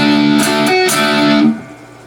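Overdriven electric guitar plays a short riff, a rest and then two strummed chords ringing loud and close before they are choked off, with no talking.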